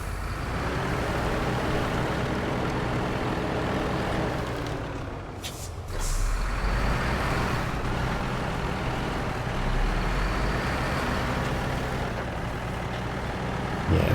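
Paystar truck from the game SnowRunner drives with a steady, loud diesel engine drone throughout, a sharp air-brake hiss bursting out near the middle before the rumble resumes.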